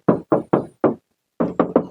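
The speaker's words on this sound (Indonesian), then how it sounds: "Bagian samping sebelah kanannya seperti biasa, langsung saja kita ketok." Seven close, hollow knocks on the right-side sheet-metal body panel of a Toyota Agya 1.2 G manual, four in a steady row, a short pause, then three more, with no talking.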